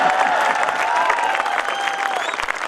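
An audience applauds steadily at a Hindi poetry recitation, with dense, continuous clapping that holds throughout and begins to thin slightly near the end.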